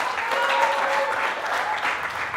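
An audience at a secondary schools quiz challenge applauds a student player walking up, a dense, even wash of clapping across the whole stretch.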